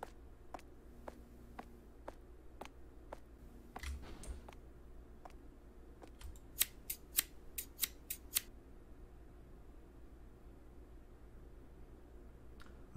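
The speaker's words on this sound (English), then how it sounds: "I'm running with scissors." Scissors snipping repeatedly in the horror game The Caregiver by Chilla's Art, sharp isolated clicks at a steady pace at first and then a faster cluster of crisp snips, over a quiet hum.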